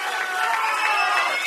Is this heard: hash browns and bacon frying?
no